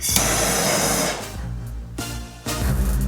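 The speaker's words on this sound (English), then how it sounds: "if we blast it with a blowtorch, if it starts to smoke at all" A blowtorch roars loudly against a bicycle brake, a steady hissing blast that dips briefly twice before surging again.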